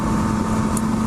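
A 2022 Yamaha Tracer 9 GT motorcycle idles briefly through its discreet under-engine exhaust, giving a steady, even hum with a low tonal drone and no speech.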